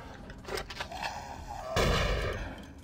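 Gunfire in the vampire action role-playing game Vampire the Masquerade: Bloodlines: a few sharp shots crack out near the start, followed by a heavier, louder blast that rings on toward the end.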